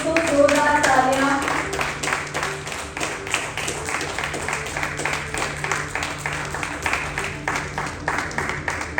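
An audience at an awards ceremony for an honorary doctorate in social work claps loudly and steadily, dense applause sustained throughout with a faint musical tone underneath.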